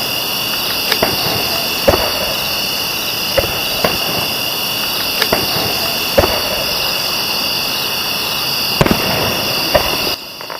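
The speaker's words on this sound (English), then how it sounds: "This large fireworks display lasted about 30 minutes" A large fireworks display over the water near Fort Mifflin produces about a dozen distant booming explosions at irregular intervals, with a steady whine and hum running beneath them.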